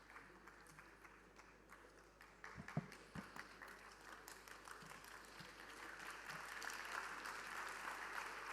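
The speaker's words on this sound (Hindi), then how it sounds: "एक बार जोरदार तालियों से स्वागत कीजिए" An auditorium audience at an international temple convention and expo in Varanasi applauds to welcome a speaker, scattered claps at first swelling into broader, sustained applause from a moderately distant crowd.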